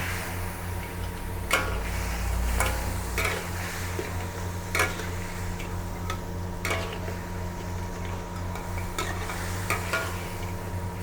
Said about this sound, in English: You have to stir